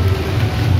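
Steady rain falls outdoors as a loud, dense, continuous hiss with a low rumble beneath it, and no voices.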